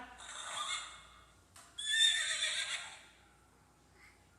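A voice imitates a galloping horse, repeating a quick rhythmic clip-clop chant in short bursts, moderately close and fairly quiet.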